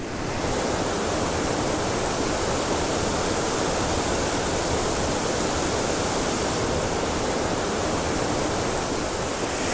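A waterfall roars in a trout-filled canyon, close and loud, a steady broadband wash of falling water that holds unbroken throughout with no voices over it.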